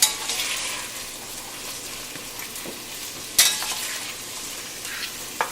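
Sizzling of roasted vegetables and melted garlic chunks being lifted out of a hot pot for pot roast, a soft steady hiss with a few sharp scrapes and clinks of a utensil.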